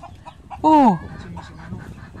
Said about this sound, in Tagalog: Ito, manok nyo.